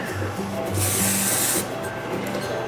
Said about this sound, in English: I just take my hairspray and I just give it a spray